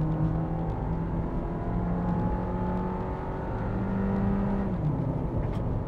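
A Honda with VTEC, on smaller wheels, pulls hard up toward 5000 RPM, its engine a steady, loud, rising drone with harmonic whine, heard alone with no talk.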